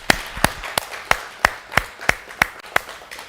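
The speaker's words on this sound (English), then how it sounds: "Let's give a little round of applause." A small group gives a sparse round of applause after a benefit concert, about ten separate, evenly spaced claps ringing out clearly in a quiet room with no talking.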